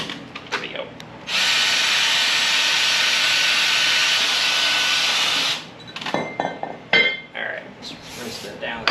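A power drill with a wire brush removing rust from an old lawn mower whines steadily for several seconds with a harsh scraping hiss, then stops, followed by clattering and light handling noises.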